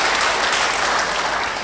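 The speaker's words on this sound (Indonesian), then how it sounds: "Yang mau beri tepuk tangan bagi dia" Dense, loud applause from a church congregation during a sermon, continuous clapping with no gaps.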